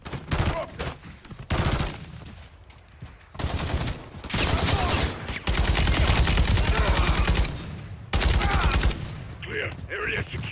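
Heavy weapon fire in a first-person military shooter game, loud sustained bursts and rapid volleys that pound through most of the stretch, with brief pauses between bursts and game radio voices talking in between.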